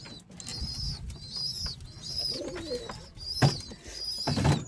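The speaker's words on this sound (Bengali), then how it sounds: "এটা হচ্ছে মাদি আছে, বাচ্চা পায়রা।" Pigeons of a domestic pet breed coo nearby in repeated low, throaty calls, mixed with brief higher chirps and occasional rustling or wing noises.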